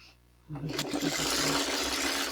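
A sewing machine stitches half square triangle quilt pieces, starting after a brief quiet moment and running as a steady, close mechanical whir for the rest of the clip.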